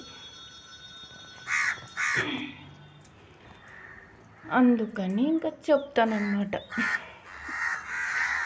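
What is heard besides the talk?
birds calling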